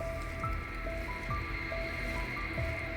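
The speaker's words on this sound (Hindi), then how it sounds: "अच्छे तरीके से कद्दू की भुनाई करनी है मसालों के साथ में" Pumpkin being stir-fried with spices in a pan, soft continuous sizzling with wet squishing stirs at a steady pace, close up and without talk.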